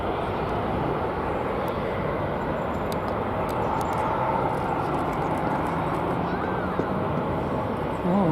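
Airliner arriving at Dallas Fort Worth Airport from Sacramento, a continuous moderate jet rumble and whine at a distance, steady across the clip, with faint intermittent ticks.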